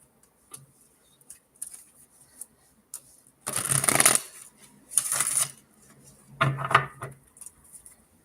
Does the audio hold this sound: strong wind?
no